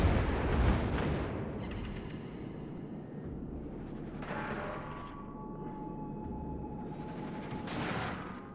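Naval gunfire in World of Warships: Legends, with Riga shells being fired: deep, rumbling booms and heavy blasts rolling on over about eight seconds, with a sharper burst near the start and swelling impacts later.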